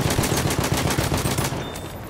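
Rapid automatic gunfire rattles close and loud in the World War I shooter Battlefield 1, a fast regular string of sharp shots that runs for about a second and a half before stopping, followed by a short quieter tail.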